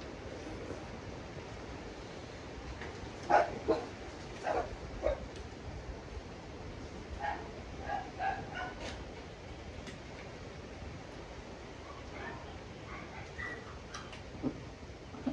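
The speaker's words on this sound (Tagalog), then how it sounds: "Yung mga aso nyo. Galit yan." Several dogs bark in scattered bursts at a distance over a constant rumbling background noise.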